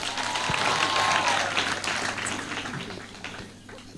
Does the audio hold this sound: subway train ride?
no